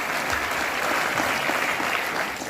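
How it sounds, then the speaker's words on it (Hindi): Loud, sustained applause from a seminar audience at a business program event in Kolkata, steady clapping throughout with no pauses. "मैं चाहूंगा एक बार गुजरात के लिए भी जोरदार ताली होना चाहिए"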